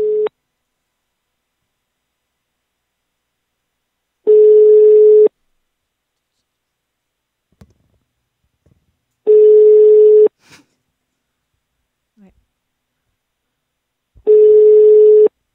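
A telephone call goes unanswered, its steady ring tone sounding in separate one-second bursts spaced about five seconds apart, with near silence between them and no talking.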